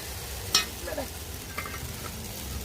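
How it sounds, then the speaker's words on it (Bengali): Spices sauté in a pan for khichuri bhog with a soft, low sizzle, one sharp clink near the start and a few light scraping stirs that follow. "এখন মশলা কষা হচ্ছে"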